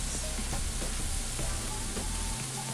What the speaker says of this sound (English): A lot of sizzle right going on there.